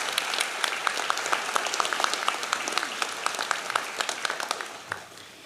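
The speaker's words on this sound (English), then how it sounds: "Please join me in a round of applause for all they do for our campus." A commencement crowd applauds, a dense and steady patter of many hands clapping. It sounds at moderate distance in a large hall and carries on evenly throughout with no voices over it.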